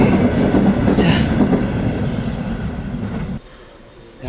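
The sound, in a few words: train at a railway station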